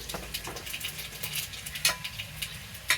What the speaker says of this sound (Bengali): আমি অল্প করে কালো জিরে ফোড়ন দিলাম